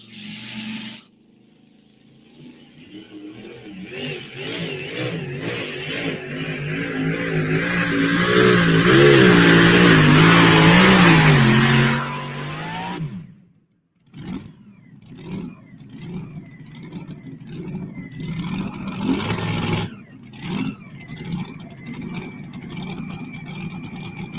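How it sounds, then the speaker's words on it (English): A big Chrysler Hemi drag race car at a state fair strip roars up to a loud, sustained rising howl, cuts off abruptly, then a rumbling idle with sharp blips and pops follows at a distance. "Big Chrysler Hemi, calls it the Possum Holler Express."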